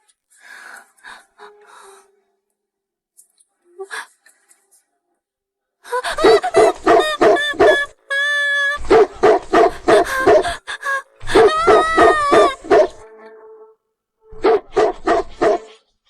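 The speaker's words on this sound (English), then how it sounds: "Mr. Ford, there's a large, aggressive dog back there." A large, aggressive dog barks in repeated loud, close volleys of sharp barks broken by brief pauses, with quieter yips and whimpers before the barking takes over.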